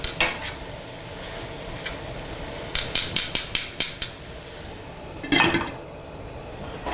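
A pot of kale being stirred with a utensil, a quick run of sharp metallic clinks against the pot rim, then a lid set down over it, all under a faint steady sizzle of steam-sautéing greens, close and with no talking.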